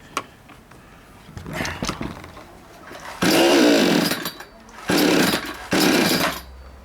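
A Chinese chainsaw during break-in, suspected of a clogged carburetor, sputters in a few short loud revving bursts that cut off abruptly as it stalls, close by.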